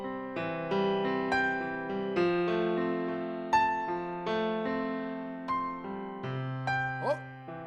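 Plucked melodic notes ring out at uneven intervals, some clustered and some spaced apart, with no steady beat; a pitch bend near the end.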